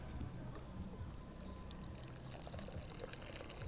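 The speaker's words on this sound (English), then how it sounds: "Give it a good watering." Water poured at the base of a newly planted cherry tomato seedling, a soft continuous trickle and splash onto soil, steady and fairly quiet throughout with faint background noise.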